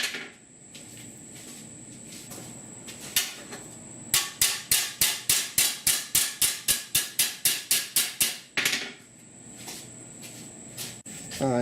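A hammer strikes a steel dash patch panel for a 1966 Ford F100 with a dolly, a fast regular run of about fifteen sharp ringing metallic taps, close and loud, framed by a few isolated hits and shop hum.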